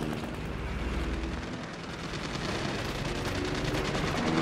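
Dense World War II gunfire from the Call of Duty: WWII campaign, rapid automatic bursts and explosions crackling continuously and loud with no pause.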